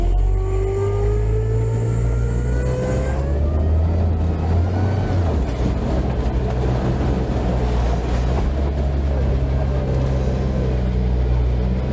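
An off-road vehicle's engine revs and then drones steadily while driving through mud, loud and close with a rising pitch early on, accompanied by continuous sloshing, churning noise.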